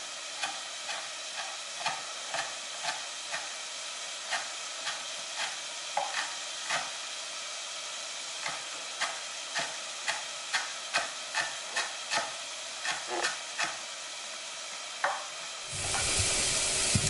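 Onions and celery sautéing in olive oil in a pot for minestrone: a soft, even sizzle under regular spoon scrapes against the pot, ending in a brief burst of louder noise.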